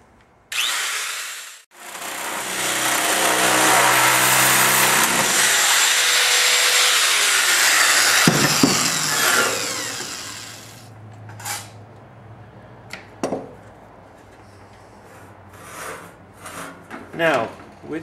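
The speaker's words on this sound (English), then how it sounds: "For me, I'm just going to use the shear." Metal being cut with a shear for a rocket stove, a long loud grinding, scraping stretch that stops, followed by scattered clanks and handling knocks.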